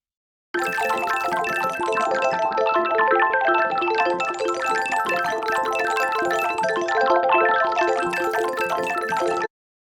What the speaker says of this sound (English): it gives it this really interesting filtered panning effect.